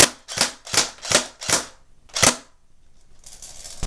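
A Crosman Pulse R76 airsoft gun fires six sharp, loud shots in quick succession at a fairly even rhythm, each a crisp snap, followed by faint hiss and no talking.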